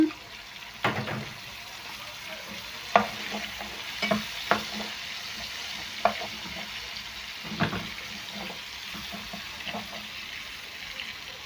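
Onion and pepper rings fry with spiced chicken in a pan, a low sizzle under repeated sharp scrapes and knocks of stirring, close by with no talk.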